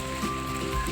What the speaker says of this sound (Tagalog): Kaso ngayon umuulan, kaya medyo foggy.